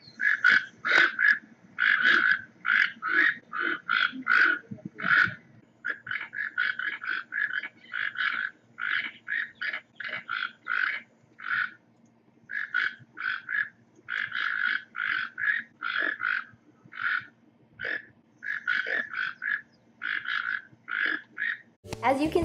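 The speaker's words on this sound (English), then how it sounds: "This is an audio clip of what a toucan sounds like." A toucan gives a long series of rapid, rhythmic croaking calls in bursts, frog-like and fairly close, with short pauses between runs.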